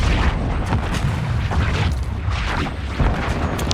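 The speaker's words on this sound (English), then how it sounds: "Precision airstrike standing by." Precision airstrike explosions in the Call of Duty Warzone video game, a continuous loud rumble of heavy booms and blasts rolling over one another with no break.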